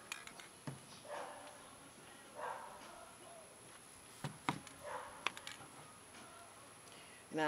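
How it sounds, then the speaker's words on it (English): A dog barks a few scattered times in the distance, faint against quiet backyard background noise. "Please excuse the dog barking in the background."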